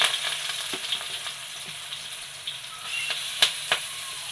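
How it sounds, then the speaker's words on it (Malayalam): Curry leaves fry in hot oil while making a mackerel pickle, giving a soft steady sizzle with a few sharper crackles and pops scattered through it. No voices. "ഇതൊന്ന് വറക്കാൻ ഇട്ട് കൊടുക്കാം ആ എണ്ണയിൽ ലേശം കറിവേപ്പില ഇട്ട് കൊടുത്തിട്ടുണ്ട്"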